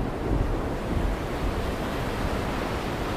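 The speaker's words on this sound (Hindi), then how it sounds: "में बादल छा गए और जोर जोर से हवाएं चलने लगी, नाव भी डगमगाने लगी।" A storm sound effect of strong wind and crashing waves around a rocking boat: a dense, steady roar of surf and gusting wind that fills the whole stretch without pause.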